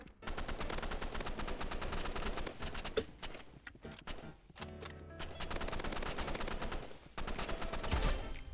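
Dense, rapid automatic gunfire in the Roblox video game, nearly continuous bursts with a few short breaks, loud and close with no talk.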